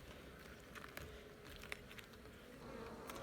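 Honeybees work at a hive in a rearing apiary, a faint continuous buzzing drone with scattered ticks and small knocks, heard close and without voices.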